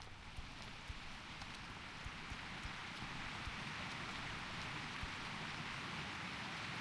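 Steady rain falls in the fantasy game World of Warcraft Classic, a dense continuous patter with scattered sharper drips and soft ticks over a low rumbling bed.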